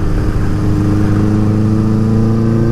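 A Honda CB550 Four motorcycle engine holds a steady, loud, close growl while being run through the gears, with no voice over it.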